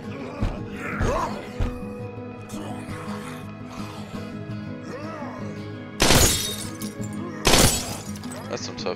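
Glass shatters twice in the zombie survival game State of Decay, giving two loud, bright crashing bursts about a second and a half apart over steady game noise, with someone talking throughout.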